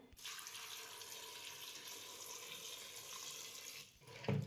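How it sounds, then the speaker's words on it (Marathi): Tap water runs steadily into a sink as vegetables are washed for pav bhaji, a constant close splashing hiss that breaks off briefly near the end with a small clunk. "आता सगळ्या भाज्या आपण स्वच्छ धुवून घ्यायच्या आहेत"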